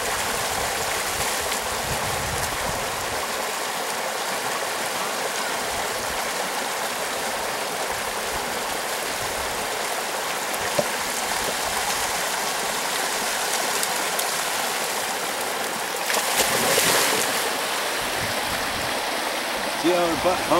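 A flowing stream rushes steadily outdoors, a loud broad wash of water that stays constant throughout, with a brief surge of splashing near the end and a person talking now and then under the flow.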